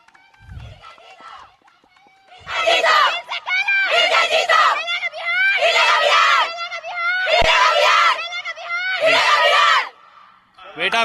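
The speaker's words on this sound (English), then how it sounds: "A big round of applause for Team Bihar." Spectators at a women's rugby sevens championship in Guwahati cheer and yell for Team Bihar in loud repeated bursts separated by short quieter gaps.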